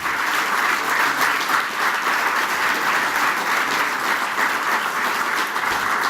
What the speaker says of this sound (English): A round of applause, folks.